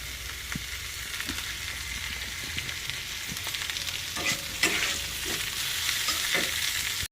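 Cabbage frying lightly in refined oil in a pan gives a steady close sizzle, broken by occasional stirring scrapes and clicks.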